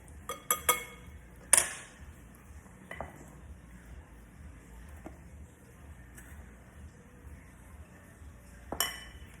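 A utensil mixes ingredients in a bowl, giving sharp clinks and knocks against the side at irregular moments, with softer scraping and stirring in between, close up and without talk.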